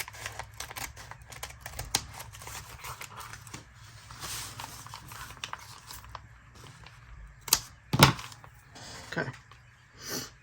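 Paper is cut by hand for a craft project, with sparse snips and light rustling, a couple of sharper cuts near the end, all fairly faint.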